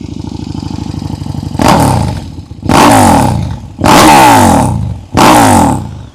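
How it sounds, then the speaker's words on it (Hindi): Loud exhaust note of a KTM 1290 Super Duke R with its twin-cylinder LC8 engine, a lumpy idle followed by four sharp throttle blips that each rise and fall, close by and with no talking. "तो इसका एग्जॉस्ट नोट आपको सुनाते हैं, साउंड कैसा कर रही है ये बाइक।"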